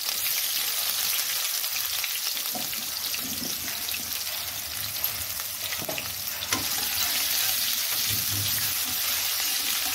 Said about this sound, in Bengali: পেঁয়াজটাকে হালকা লাল করে ভেজে নেব।